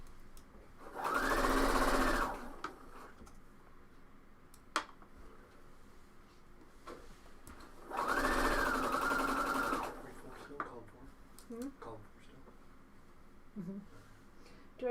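A sewing machine stitches coat fabric with a sleeve and tie interfacing in two steady runs of about two seconds each. Quiet pauses and small handling clicks fall between the runs.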